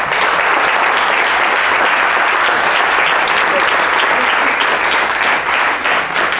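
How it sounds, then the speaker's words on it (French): An audience gives steady, loud, dense applause at a talk, a continuous wash of many hands clapping for several seconds with no break. "On applaudit très fort Sophie."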